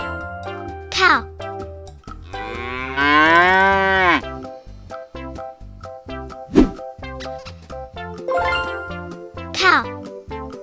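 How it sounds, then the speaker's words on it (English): A cow gives a long, loud moo in a toddler farm-animal learning piece, over a jingling children's melody, with a voice naming the animal before and after. "Cow."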